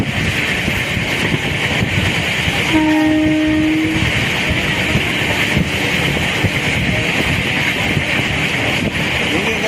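Train running along the rails with a steady loud rumble and wind roar, its horn giving one sustained tonal blast of about a second partway through, with voices talking over the noise.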